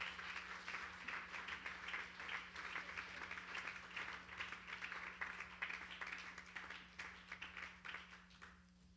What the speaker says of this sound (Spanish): Si le va a dar ese aplauso al Señor,